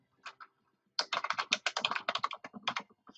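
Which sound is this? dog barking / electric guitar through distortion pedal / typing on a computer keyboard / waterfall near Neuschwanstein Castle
typing on a computer keyboard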